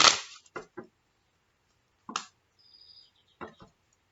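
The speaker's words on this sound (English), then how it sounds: "I'm going to do 5 shuffles." Several short crisp riffling bursts of tarot cards being shuffled, separated by pauses, close and fairly loud in a quiet room.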